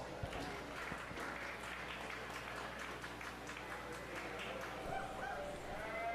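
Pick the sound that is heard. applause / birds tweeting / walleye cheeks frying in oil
applause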